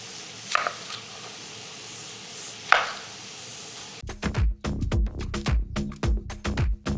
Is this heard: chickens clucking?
no